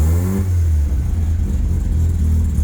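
A Mazda RX-7 engine running a Microtech LT-10s ECU revs up sharply at the start, then holds a loud, steady, close drone through to the end.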